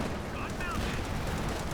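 Machine-gun fire from a double MG in the World War II strategy game Company of Heroes 2, dense and continuous gunfire noise throughout, with broadband rattling battle sounds and no clear separate bursts.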